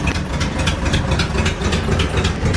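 A Datsun 240Z engine idles roughly, with a throttle linkage fault. It gives a loud, close, low rumble with uneven, throbbing pulses that holds steady throughout, and no one speaks.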